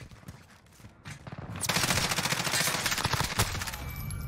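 Video game gunfire: scattered faint shots at first, then a sustained rapid automatic burst, loud, dense and close, with no talk.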